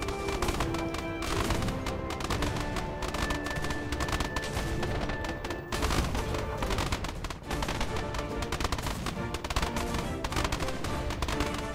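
Weapons firing in the airship battle game Airships: Conquer the Skies, with crossbows and ballistas shooting in a dense, continuous barrage of gunfire-like cracks and impacts under a loud, steady game soundscape.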